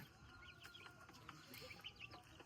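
A hen clucking in a poultry setting, short soft clucks and scattered calls at moderate distance over a faint low background.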